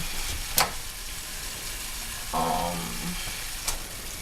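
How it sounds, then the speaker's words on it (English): Green onions and sage drop into boiling marsala sauce, giving a soft steady sizzle and bubble under a few sharp clicks and a short tonal clatter midway, fairly quiet overall. "I'm just going to put in my green onions and the sage."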